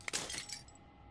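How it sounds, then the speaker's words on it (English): Glass shatters in the video game Slay the Princess, a brief bright tinkling crash with clinking fragments that fades within a second. "As the final fragment of glass shatters"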